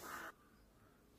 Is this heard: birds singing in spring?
yes